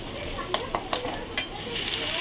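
Chopped shrimp go into a pan of frying carrot and onion for chow mein, under a constant hot sizzle marked by several quick scraping stirs from a utensil.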